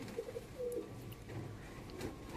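Pigeons in a home breeding loft in Purba Medinipur coo softly and repeatedly in low, rolling calls, faint and fairly close with no talk.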